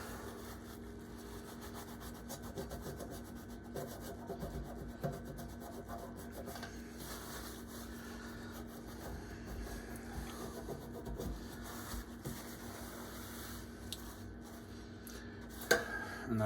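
Fingernails scrape and rub at burnt-on residue on a stove top, giving a steady, close, quiet rasping texture with small irregular scratches over a faint background hum, and no voices.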